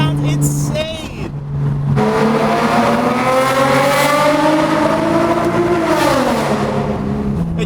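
A BMW M4 engine revving hard to around 7,500 RPM, a loud rising mechanical wail with strong harmonic whine that climbs, holds and bends, heard from inside the car after a brief shifting burst at the start.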